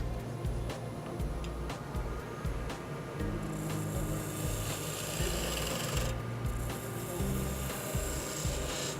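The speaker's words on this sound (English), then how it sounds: "I'm going to take my spindle gouge and just dress this up a little bit" A spindle gouge cuts wood spinning on a lathe, a close, continuous rasping scrape with rhythmic rubbing pulses under the lathe's steady hum.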